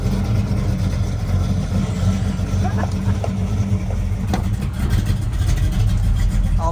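A 1977 Chevy C10 pickup engine runs with a steady low rumble and idle throughout, close and continuous, with a voice talking over it.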